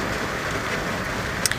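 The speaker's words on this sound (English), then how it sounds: "It's raining" Steady rain falls outside, a continuous hiss of even loudness throughout, with a couple of brief louder drops or taps near the end and no talking.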